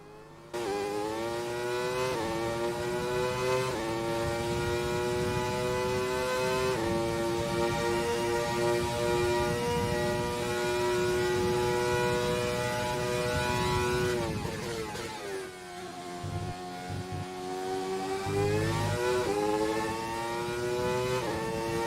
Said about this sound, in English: So that's the engine sound of the Benetton B194 from 1994